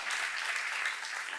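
Brief burst of applause from a church seminar audience, a soft, even patter of clapping heard alone.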